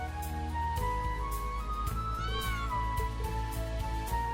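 Cat meowing in Trails of Cold Steel 3, a short rising-and-falling mew standing out clearly over steady game music.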